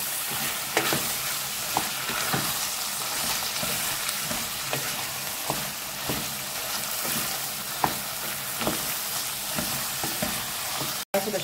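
Green beans stir-fried in a pan for a ground-meat fresh bean dish, giving a steady close sizzle and crackle with scattered scraping clicks of stirring throughout.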